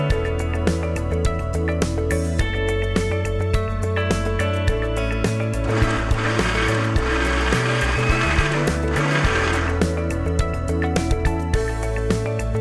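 A kitchen mixer grinder runs loud and continuous while grinding ivy gourd masala paste with a little water, its motor whine steady and the jar contents churning with faint rhythmic knocks.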